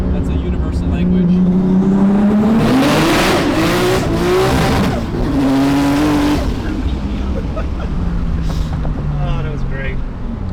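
Car engine revving hard through an underpass during a drive out from the LZ compound, the loud rising and falling engine note swelling and echoing for several seconds before easing off, with voices talking over it.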